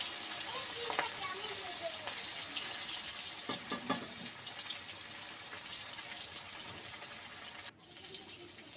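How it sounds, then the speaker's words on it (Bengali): Rohu fish frying in hot oil, a continuous hissing sizzle with a few scattered pops and clinks, under a voice speaking at moderate level. "একটু সময় নিয়ে মাছটাকে কিন্তু ভেজে নিচ্ছি।"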